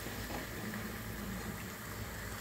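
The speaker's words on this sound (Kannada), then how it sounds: "ಸ್ವಲ್ಪ ಹೊಂಬಣ್ಣ ಬರೋ ತನಕ ಫ್ರೈ ಮಾಡಿ." Upma bonda deep frying in hot oil gives a continuous dense sizzle and bubbling hiss, steady and close throughout with no talk over it.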